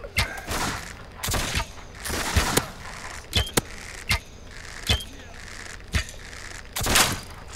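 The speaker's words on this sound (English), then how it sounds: "They're aiming and shooting." Enemies fire at the player in the video game This Land Is My Land, with irregular gunshots and short bursts, some loud and close, over a busy game background.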